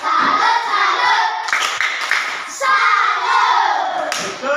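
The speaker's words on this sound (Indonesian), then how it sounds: "Tepuk salut untuk kelompok 1." A classroom of children claps in a rhythmic group salute pattern, loud and energetic, with bursts of shouting and chanting voices over the clapping.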